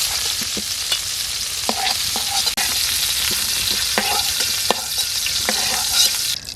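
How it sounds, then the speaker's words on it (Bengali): Cauliflower fries in hot oil with a steady close sizzle, while a utensil stirs and scrapes the pan in scattered knocks; no one speaks. "ফুলকপি লাল লাল করে ভেজে নিয়েছি।"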